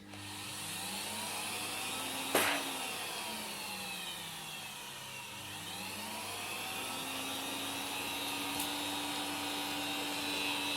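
Miele Revolution PowerPlus 5000 vacuum cleaner running on its low setting, a steady droning motor hum with slowly sweeping whine tones and a couple of sharp knocks, no talk.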